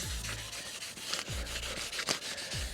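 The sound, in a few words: sanding a car bumper with 2000 grit during smart repair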